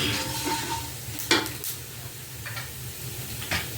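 Fenugreek, mustard seeds and cumin crackle and sizzle in hot oil, a steady close frying hiss broken by a few sharp spoon scrapes and pan clatters.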